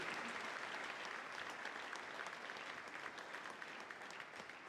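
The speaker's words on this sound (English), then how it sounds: "One more round of applause for Conrad Anker." Sustained applause from a large audience, a dense steady wash of clapping that holds for several seconds and fades slightly near the end.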